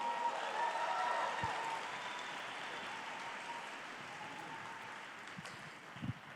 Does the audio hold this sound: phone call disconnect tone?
no